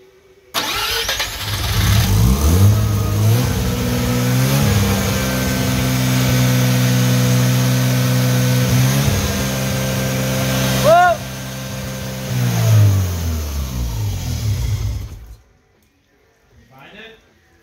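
A rotary engine cranks and starts, then runs steadily with a strong, loud drone that rises in a brief rev near the end before cutting off; people talk faintly.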